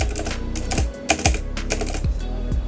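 Rapid computer keyboard typing with a handful of sharp key clicks and clacks, close and fairly loud, in an uneven burst with no voices.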